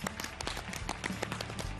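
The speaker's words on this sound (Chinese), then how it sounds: "掌声欢迎。" Studio audience applause on a Chinese TV health programme, a dense steady patter of many hands clapping throughout, moderately loud with no talk over it.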